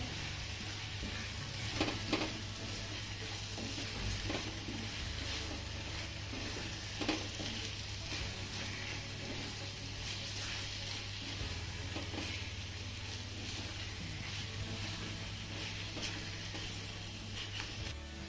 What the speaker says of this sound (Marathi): आता यामध्ये आपल्याला वाफवलेला कांदा घालायचा आहे त्यानंतर याला छान असं मिक्स करून घ्यायचं आहे